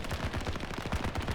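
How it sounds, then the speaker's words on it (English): A deployed turret fires in Battlefield 2042, a rapid, steady stream of gunshots at an even rhythm, close and punchy, running the whole brief burst without pause. "He put a turret down."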